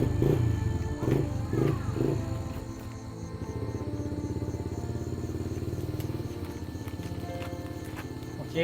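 A motorcycle throttle is twisted in bursts, the engine revving in a few rhythmic rising roars before settling into a steady close idle hum with faint ticking.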